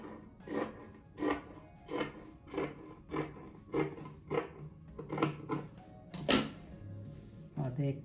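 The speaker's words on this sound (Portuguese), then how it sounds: "Agora esse cru aqui, eu vou cortar ele no meio." Scissors cutting raw fabric in half for a patchwork rug, a close run of about a dozen crisp, evenly spaced snips with a slightly louder cut near the end.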